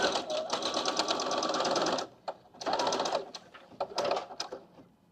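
A sewing machine runs a zigzag finishing stitch along a fabric edge in close, loud bursts: a two-second run, a pause, then a second long run and several short spurts of stitching.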